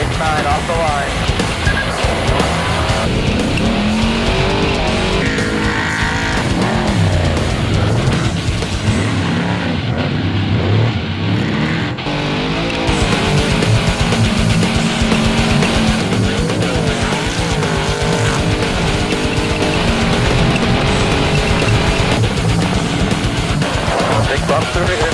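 An off-road race vehicle launching off the start line at the BITD Mint 400 desert race in 2013, its engine roaring loudly and continuously close by, with a short dip midway, while a voice talks over it.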